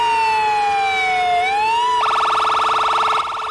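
An ambulance siren on a busy city road in a dramatized audio story: a loud wailing tone slides down and back up, then switches to a rapid warbling yelp that continues to the end.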